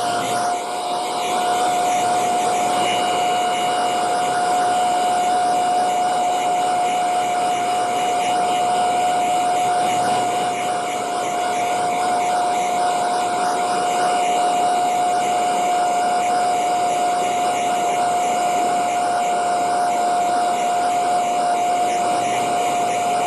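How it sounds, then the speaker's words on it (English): A hair dryer blows steadily on wet latex theatrical makeup on skin, a constant loud whooshing roar with a fixed whine that holds unchanged and uninterrupted throughout. "And now we'll take our dryer."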